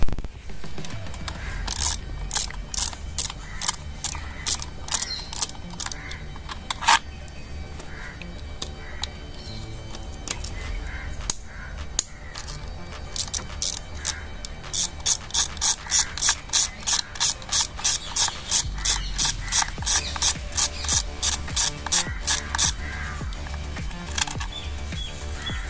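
A hand ratchet working on a Bajaj Pulsar NS200 motorcycle: close, crisp clicking in repeated bursts, building into long rapid runs of ratcheting toward the end.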